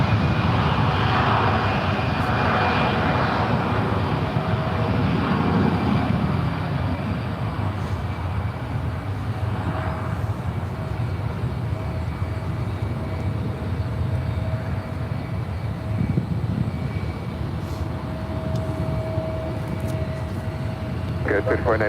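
An Alaska Airbus A320 jet at SFO gives a loud, continuous engine roar that fills the whole stretch, heard from fairly close with a steady, unbroken rumble.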